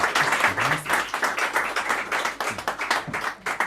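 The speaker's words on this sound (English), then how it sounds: "Can we have a round of applause for our wonderful organisers, please?" A live audience claps for event organisers at an evening performance gathering, a dense burst of hand claps that pulses unevenly and stays loud for the whole stretch.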